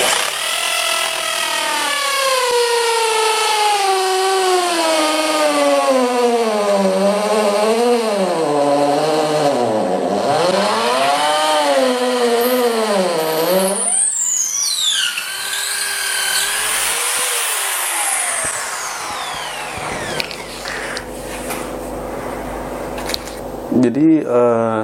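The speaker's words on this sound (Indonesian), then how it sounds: "sekarang saya akan coba di coran semen ini" A Kyuho K550 13mm electric hammer drill with a 10 mm bit is run in hammer mode into cast cement, its motor whining loudly with rising and falling pitch as the load changes, then spinning down near the end.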